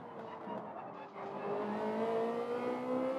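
Engine tones of Group 3 racing cars in Gran Turismo 7 drone and rise steadily in pitch, a continuous revving whine that grows slightly louder toward the end.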